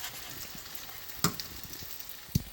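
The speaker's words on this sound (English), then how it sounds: "right now, they're simmering" Grits simmering in a pan while being stirred, a faint steady bubbling hiss with two sharper scrapes of the spoon against the pan bottom.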